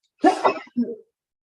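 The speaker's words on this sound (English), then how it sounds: "Gesundheit, bless you." A single quick sneeze bursts out, followed by a short softer exhale, close and fairly loud, then silence.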